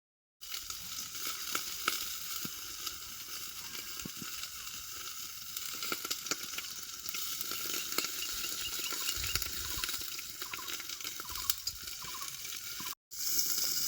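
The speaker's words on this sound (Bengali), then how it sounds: "চিংড়ি মাছের পাতুরিগুলো তেলে ভাজুম" Golda prawn paturi fries in mustard oil in a wok over low heat under an upturned bowl, giving a steady, fairly quiet crackling sizzle that runs nearly unbroken, with one short gap near the end.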